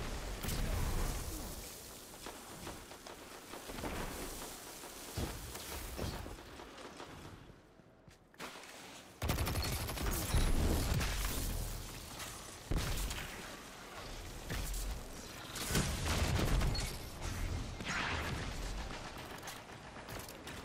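Trace rifle fire in the Destiny 2 video game, heard as bursts of harsh, dense, sustained energy-weapon shooting amid loud game effects, with a brief lull near the middle before the firing resumes; faint voice chatter sits underneath.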